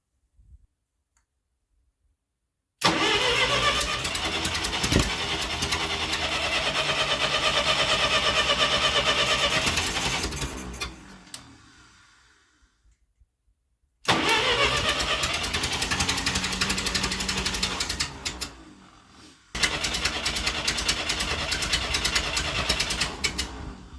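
An old tractor engine cranks in three long bursts separated by silences, a loud rapid chugging rhythm that keeps trying without catching.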